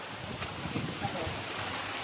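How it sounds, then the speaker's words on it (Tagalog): Strong wind roars steadily outdoors, a broad rushing noise with gusty buffeting throughout. "Lumakas talaga yung hangin dito."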